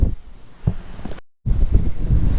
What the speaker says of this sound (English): we can handle these sort of wind speeds of over 30 knots with fairly moderate waves